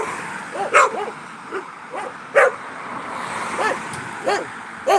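Two small dogs bark and yip in short, scattered bursts at close range over faint background noise, with no clear voices.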